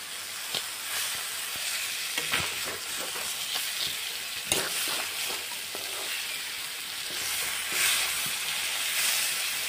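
Fish heads frying in masala in a pan, a loud, continuous hiss and crackle with faint scraping and small clicks from turning, steady throughout with no talk.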